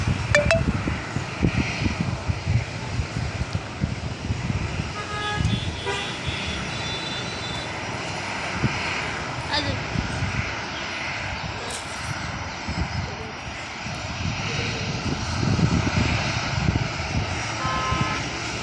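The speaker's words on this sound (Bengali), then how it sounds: "আরেকটি বিমান ফ্লাই করার জন্য রানওয়েতে চলে আসতেছে" An airplane's engines run on a runway before takeoff, a loud, sustained roaring whine with a low rumble underneath, steady throughout and heard from some distance.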